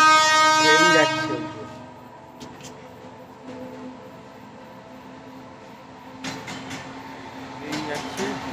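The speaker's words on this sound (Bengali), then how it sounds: "ট্রেন যাচ্ছে, মালগাড়ি যাচ্ছে, মালগাড়ি।" A goods train passes near Bolpur market in West Bengal, heard from a motorbike stop: a loud horn blast opens, then a steady rumble of wagons rolls on with a few sharper clanks.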